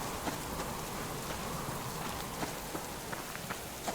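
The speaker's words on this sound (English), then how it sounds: "I said, I don't care about the rain. It can rain all day long if it wants." Rain falling in a survival video game, a steady soft patter of drops on surfaces with scattered sharper droplet ticks, continuous and fairly quiet.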